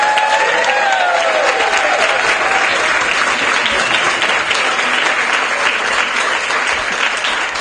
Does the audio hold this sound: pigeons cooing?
no